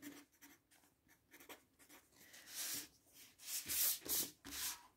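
A pen or pencil scratches across paper in quiet, close strokes, with soft irregular scrapes that grow a little louder toward the end.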